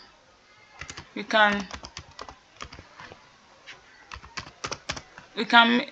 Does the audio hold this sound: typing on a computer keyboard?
yes